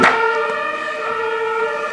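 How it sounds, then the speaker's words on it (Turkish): An ambulance siren passes outside, a loud sustained wailing tone that holds steady throughout, heard indoors with faint background noise and no talk. "dışarıdan ambulans geçmesi sesini duymuşsunuzdur"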